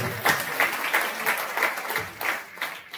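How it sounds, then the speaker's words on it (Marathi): Sustained applause from an audience at a devotional gathering during a Shravan-month ritual discourse, a dense steady clapping with faint rhythmic surges throughout. "त्यासाठी त्यांच्यासाठी जोरदार टाळी"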